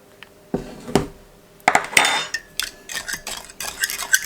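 A spoon stirs lemon curd mixture with added cornstarch in a bowl, producing close clinks and scraping taps of utensil against the bowl in an irregular rhythm, with no talk.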